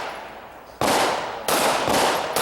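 Pistol shots fired at an outdoor IDPA shooting match stage at Mecklenburg Wildlife Club ring out as three loud, sharp cracks in quick succession, each with a short trailing echo.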